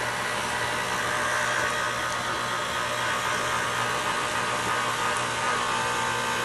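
An electric mixer blends flour, salt and baking soda for banana bread batter, giving a steady, unbroken whirring hum that holds at an even level throughout.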